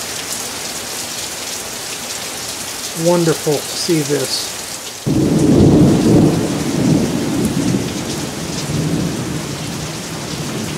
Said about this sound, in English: Here's the side we don't have gutters on, so it's just pouring off the house.